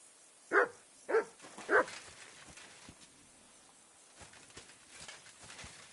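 A dog in the medieval game Kingdom Come: Deliverance II gives three quick, close barks, followed by quiet ambience with faint scattered thumps.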